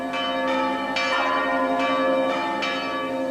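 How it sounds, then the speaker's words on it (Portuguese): Church bells of Santa Rita church in Rio de Janeiro ring out in a steady series of about seven resonant strokes, clear and sustained, with no voices. "Os sinos da igreja de Santa Rita anunciam que, a meio-dia, hora de os senhores abastados da cidade se recolherem à cesta."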